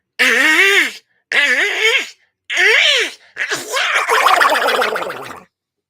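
A voice imitates a sneeze in a Donald Duck style, with three short, squawking, nasal bursts separated by pauses, then a longer, drawn-out final burst, loud and close with no background.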